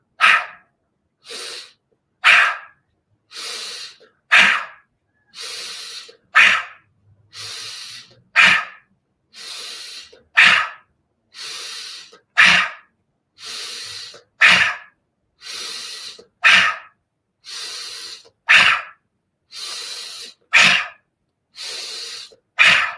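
Repeated forceful exhalations through the mouth during a seated yoga breathing exercise, about a dozen evenly spaced breathy bursts roughly every two seconds, close and clear with near silence between them.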